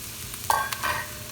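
Minced meat with jalapeno and garlic being sautéed for stuffed sweet peppers, with a soft steady sizzle and a few brief scrapes of a spoon stirring the pan, without voices.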